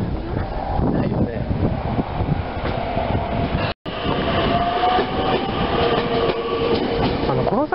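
A Keio Inokashira Line commuter train at its rail depot near Fujimigaoka rumbles and clatters nearby with squealing wheels and steady rolling noise, briefly cutting out before continuing.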